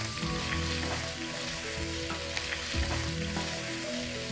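Shallots and asafoetida fry in a hot pan with a steady, loud, close sizzle that runs without a break, alongside faint stirring sounds and no talk.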